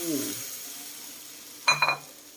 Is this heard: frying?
yes